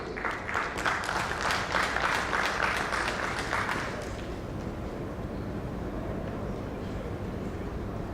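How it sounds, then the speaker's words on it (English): Audience applause at the 3rd Annual Insurance India Summit and Awards 2018, a dense, steady burst of many hands clapping for about four seconds before fading into a quieter room murmur. "Please give a huge applause for a wonderful presentation."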